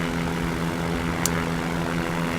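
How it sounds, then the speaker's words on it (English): Propeller airplane engine in the VR game Drug Smuggler Simulator, heard as a steady droning hum with a constant tonal whine while the plane comes in to land on an airstrip, loud and continuous with no talking. "We're trying to make a landing to the airstrip"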